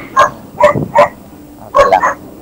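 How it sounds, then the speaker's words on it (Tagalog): A dog barks several times close by indoors at a workshop, with four sharp yipping barks in a short burst separated by a brief pause. "Maingay. May aso po si sir."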